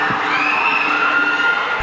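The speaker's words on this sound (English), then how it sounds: "Let's just give them a big round of applause," A pageant audience cheering and whooping in a loud, sustained burst, steady throughout with a sharp accent near the end.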